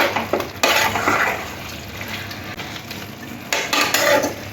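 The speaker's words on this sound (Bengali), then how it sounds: "পেঁয়াজ আদাটাও মিশিয়ে নেব চিকেনের সাথে।" Chicken is stirred together with onion, ginger and onion greens in a pan, producing close scraping and clattering strokes over a soft sizzle, loudest at the start and again near the end.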